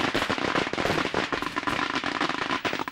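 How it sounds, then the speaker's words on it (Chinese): Rapid crackling bursts of gunfire fill a wartime TV drama scene about tunnel warfare, dense irregular sharp pops in quick succession, loud and continuous without speech. "那里面的枪声怎么回事？"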